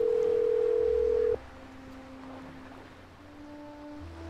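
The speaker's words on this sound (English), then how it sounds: "Nancy's going to use her phone too." A phone dial tone in the Nancy Drew mystery game Danger on Deception Island, a steady loud tone that cuts off after about a second and a half, followed by quieter faint line tones.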